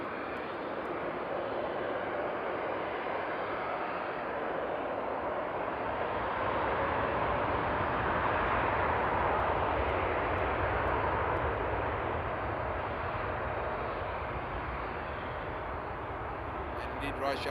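An Etihad airliner at Frankfurt Airport on a frosty night gives a long, steady engine roar at moderate distance, swelling slightly through the middle and easing off, with a voice talking faintly alongside.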